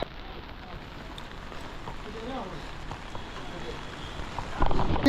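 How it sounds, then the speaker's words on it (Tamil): Steady rain falling outdoors in Munnar makes a continuous broadband hiss, with wind buffeting the microphone, a rumble swelling near the end and faint voices underneath. "12 ஹவர்ஸாக ரெயின் வந்துக்கிட்டே இருக்கு"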